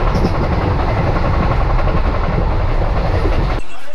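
The 22906 Shalimar Okha superfast express rolls along, its dense, loud rumble and rhythmic clickety-clack heard from on board, constant until the sound cuts off abruptly near the end.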